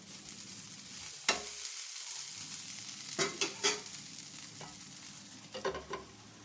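Food sizzles softly in a hot pan, with a spoon scraping and stirring in a few short bursts, close and quiet.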